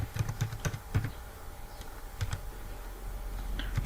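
Keys clatter on a computer keyboard while a C printf statement is typed, rapid bursts of close clicks in the first second, then a short flurry later over a quiet room hum.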